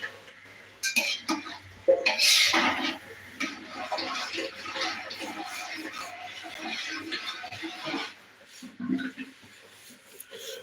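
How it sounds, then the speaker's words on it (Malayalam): Water is poured into fried rice cooking in a pot, a soft splashing pour mixed with light clinks of utensils against cookware, fairly quiet overall. "വേവത്തക്ക രീതിയിലുള്ള വെള്ളം ആ ഫ്രൈഡ് റൈസിലേക്ക് ഒഴിച്ചു കൊടുക്കുക"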